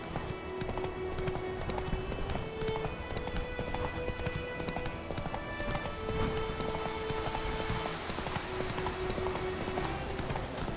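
Horse hooves clip-clop steadily at a walking pace in the Witcher 3 video game, a continuous rhythmic patter of hoofbeats over a constant ambient bed, with no talk.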